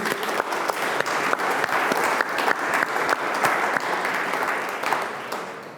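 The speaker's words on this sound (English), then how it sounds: "Maybe one round of general applause would do." Conference audience at an international food and nutrition security meeting applauding the invited speakers, a steady round of clapping with distinct individual claps, fading slightly toward the end.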